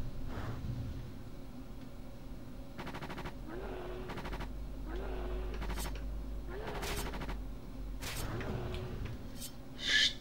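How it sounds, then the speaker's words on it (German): Repeated bursts of gunfire from the Atari Jaguar game Alien vs Predator, several short rapid volleys spaced across the span over a steady low game hum, with no talking. "Kommt der Schuss da raus?"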